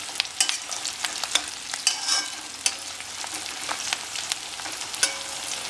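Capsicum and onion frying in a pan for chilli chicken, a steady sizzle broken by repeated close scraping stirs and clicks of the spatula, with no talking.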